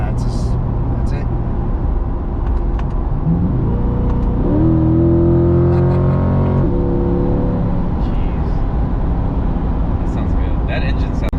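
A Chevrolet C8 Corvette engine in track mode revs up and accelerates at high RPM for a few seconds inside the cabin, droning over steady road noise, with people talking before and after.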